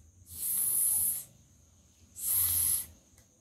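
A voice imitates a snake's hiss to show the sound of the letter S, two sustained breathy hisses each about a second long, loud and close, separated by a short pause.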